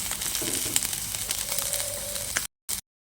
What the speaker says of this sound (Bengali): এখন তুলে নিয়ে মাছগুলো ভেজে নেব এই কড়াতে